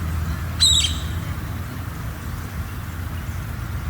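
A single quick chirp from a small bird, clear and fairly near, over a low, steady outdoor rumble; the rest stays quiet with no voices.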